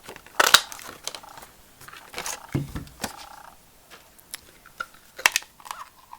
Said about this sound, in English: I want to punch out the sentiment here using the large oval punch.